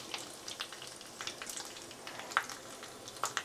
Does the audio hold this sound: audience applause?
no